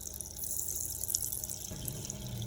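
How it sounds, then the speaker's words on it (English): Red oil poured into a pot while cooking a Sierra Leone potato leaf dish, a steady liquid stream with a soft splashing hiss that continues throughout, moderately quiet and without talk. "So let me just pour right here. That's the red oil."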